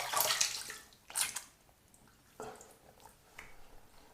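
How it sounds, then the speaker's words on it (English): Water rinses away slick shaving soap after a wet shave with an aluminum razor: splashing bursts from a tap or basin come in uneven waves, close, with quieter drips between them. "All right, rinsing."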